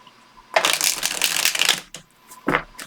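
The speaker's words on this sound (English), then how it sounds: "That is the Hollow Valley Tarot deck. Let's give it a nice shuffle." A Hollow Valley tarot deck of thin cards gets shuffled up close, with a loud riffling burst of about a second and a half, a short pause, then a second quick shuffle.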